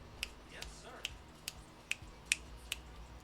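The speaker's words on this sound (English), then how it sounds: "Snap my fingers." Finger snapping in a workplace, about seven sharp separate snaps at irregular intervals, close and distinct over a quiet background.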